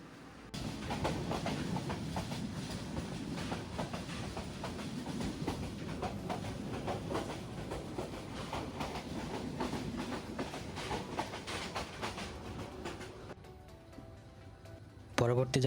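The Kalni Express runs on rails between Sylhet and Dhaka, a steady rumble with rapid clickety-clack beats from the wheels, heard from inside the carriage under a voice talking.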